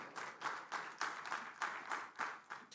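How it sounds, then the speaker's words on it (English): Applause from an audience at a governance and social accountability forum, a modest crowd clapping at a fairly quick, uneven rhythm, moderately distant and fairly faint with no talk over it. "Please, a round of applause."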